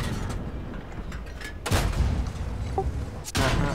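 Tank cannon blasts in a tank video game, two loud booming shots about a second and a half apart over a steady rumbling engine bed, with a faint voice talking beneath.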